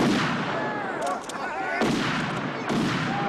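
Gunfire from a King Kong Lives movie scene, with loud, sustained bursts of shots fired at the sky and two sharp onsets of fresh volleys over a dense battle din.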